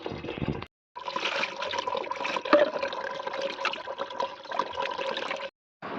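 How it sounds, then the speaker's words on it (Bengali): Running tap water while hilsa fish are being washed, a steady broadband rush with uneven splashing, pausing briefly near the start and cutting off just before the end, with no talking. "চলো মাছটা এখন আমি এবার ধুয়ে নেবো ধুয়ে নিচ্ছি"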